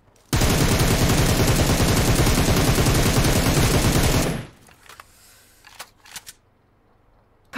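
Sustained automatic gunfire with heavy recoil in the game BGMI, a loud rapid burst of shots lasting about four seconds, then abruptly stopping into quiet with a few faint clicks and taps.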